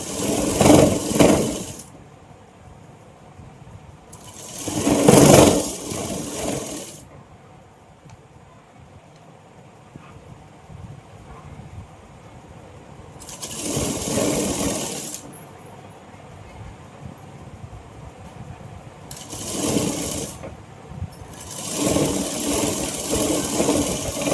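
A sewing machine stitches a cotton Patiala pant in several separate bursts of rapid mechanical whirring, with quiet pauses between runs.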